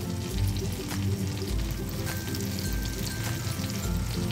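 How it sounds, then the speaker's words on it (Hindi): Four slices of bread frying in butter in a hot pan, a steady soft sizzle and crackle throughout, with no talking. "चार ब्रेड ले लिए हैं, इसको अच्छे से फ्राई कर लेंगे।"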